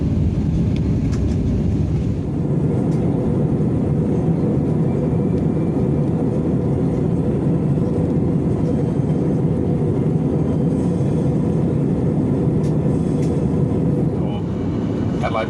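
Steady broadband cabin roar inside a Jetstar airliner climbing after takeoff from Adelaide toward Melbourne, a constant loud engine and airflow rumble with no breaks, continuing unchanged throughout.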